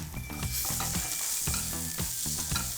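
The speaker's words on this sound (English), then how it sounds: "All right, we're gonna stir my carrots." Carrots sizzle in a hot pan for ramen and are stirred, giving a continuous loud frying hiss with rhythmic scrapes of a utensil about every half second. The sound is close and nobody speaks.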